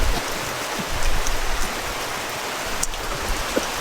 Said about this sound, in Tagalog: Umuulan. Wrong timing talaga.